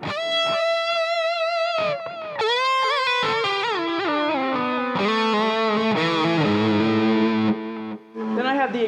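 An electric guitar plays a distorted solo with sustained bent notes, vibrato and a lush echoing effect, loud and upfront throughout.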